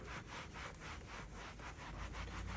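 A brush scrubs a vinyl truck seat in a Ford F-350 after a light mist of Koch Chemie MZR cleaner diluted 1 to 50, giving a close, steady back-and-forth rasping rhythm of quick strokes.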